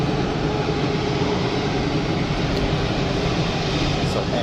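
Steady broadband roar of an Air China Airbus A330-200 airliner at Geneva Airport, loud and unbroken, with no distinct events.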